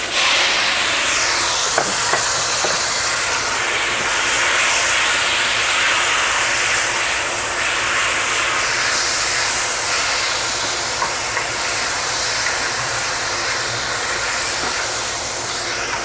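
Beef and ginger stir-frying in a hot pan, a loud, steady sizzling hiss that holds at an even level from start to finish.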